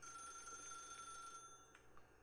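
Bright electronic trilling of a ringing phone in the video game The Stanley Parable, steady and fairly loud, cutting off near the end and leaving a few faint clicks.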